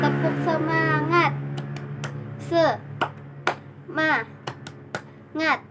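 Children in an Indonesian classroom, led by a teacher, chant a short rhythmic clapping cheer, with sung syllables broken by sharp unison hand claps in a quick pattern nearby.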